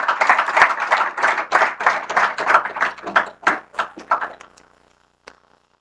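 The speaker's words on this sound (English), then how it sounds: "Please give our panelists a huge round of applause." An audience at a sports goods manufacturing hub event in Chhotaudepur claps for the panelists in loud, rhythmic bursts that taper off after a few seconds, followed by a single stray clap.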